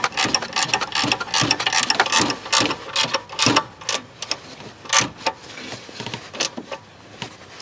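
Ratchet wrench clicking in quick, uneven bursts while tightening a bolt on the belt tensioner of a 2008 Hyundai Elantra during a serpentine belt and alternator job, loud and close with short pauses between strokes.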